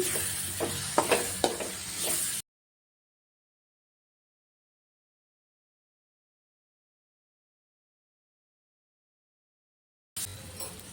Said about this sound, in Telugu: ఒక ఐదు నిమిషాల పాటు ఇలా ఆయిల్ రిలీజ్ అయ్యేలాగా వేయించుకోవాలి